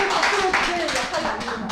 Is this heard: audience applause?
yes